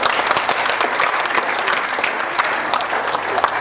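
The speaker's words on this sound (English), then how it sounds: "so let's give him a round of applause." A graduation audience gives a round of applause for the principal, steady thick clapping from many people filling the hall, sustained evenly with no talk.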